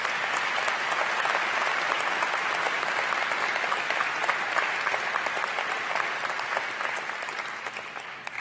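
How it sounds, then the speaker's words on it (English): A commencement crowd gives sustained, dense applause in a large hall for the Student Affairs staff, a steady roar of many hands that begins to taper near the end. "Can you please give them a hand of applause?"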